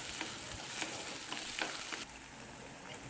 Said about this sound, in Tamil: இஞ்சி பூண்டு பேஸ்ட்டும் சேர்த்துக்கிறேன். அதையும் சேர்த்து நல்லா வதக்கிக்கலாம்.